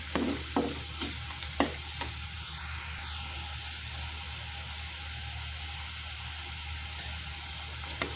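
Onions frying and being stirred in a pan for a thick Kerala sardine chili curry: a steady close sizzle fills the whole stretch, broken early by a few sharp utensil scrapes and knocks, with no talk.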